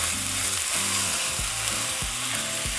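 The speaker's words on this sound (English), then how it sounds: "we're going to throw in our chorizo. We're going to break it down and cook" Chorizo sizzles loudly and steadily in a hot pan as it is broken up, with a few sharper bursts and the scrape of a utensil breaking the meat into pieces.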